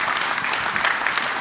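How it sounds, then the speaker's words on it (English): Audience applause for a panel at a tech conference, a brief burst of dense, loud clapping from a crowd. "give the whole panel a round of applause"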